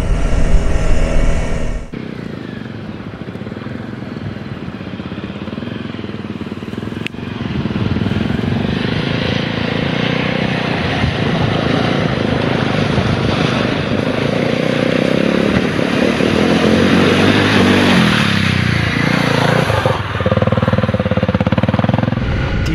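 A Honda enduro motorcycle rides through sand and a ford in Iceland, its engine droning loud and close for a long stretch, dropping briefly near the end before pulling again.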